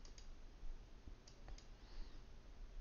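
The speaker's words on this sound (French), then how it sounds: "sur le petit carré rouge, là, vous allez faire un double clic" Computer mouse clicks while working in Photoshop CC 2015.5, a few faint, sharp ticks spaced across a quiet room background.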